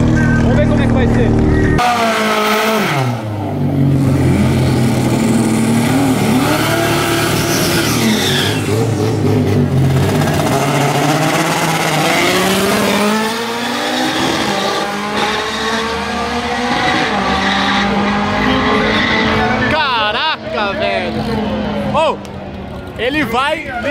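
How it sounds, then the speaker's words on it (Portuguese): A turbocharged Chevrolet Opala drag races a naturally aspirated VW Gol, with loud, sustained engine roars that rise and fall through gear changes and a strong launch after a brief lull, as voices talk over the racket. "Olha só, Juninho vai andar contra um gol aspirado."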